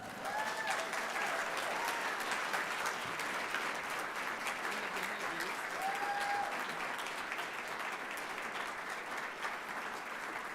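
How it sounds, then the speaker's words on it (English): A school board meeting audience gives a sustained round of applause, a dense, even roar of many hands clapping for over ten seconds, with a few faint whoops rising briefly above it. "now you can give them a round of applause."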